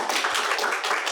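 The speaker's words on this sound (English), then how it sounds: "clap for yes" An audience claps together in a brief, dense burst of applause to vote yes, close and lively, with no talking.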